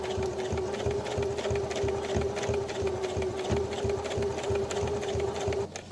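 A sewing machine stitches through four layers of fabric for a sleep mask, a fast, steady motor whir with rapid needle clatter, close and continuous, stopping at the very end.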